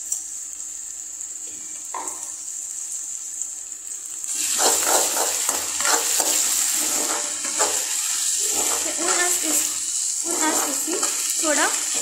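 Garlic-ginger paste and green chilies frying in a pan for desi-style Maggi, a hiss that turns louder and busier midway, with clattery stirring and a person talking over it.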